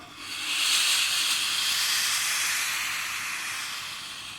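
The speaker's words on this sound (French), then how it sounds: "Vous voyez, ça fait de la vapeur." A Calor anti-scale steam generator iron gives off a strong, steady hiss of steam for several seconds, close and loud, with no other sound.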